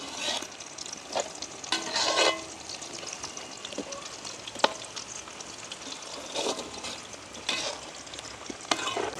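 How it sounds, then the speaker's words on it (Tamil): Close-up bubbling and crackling of village-style fish curry simmering in an open pot, with occasional clinks and scrapes of a utensil. "அப்படியே குழம்பு நெல்ல கொதிச்சு கொண்டு வந்துட்டுது"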